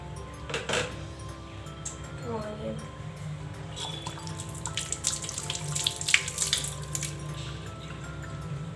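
A kitchen tap runs while two onions are washed, water splashing and gurgling steadily over the hands and produce, with a voice talking now and then over the flow.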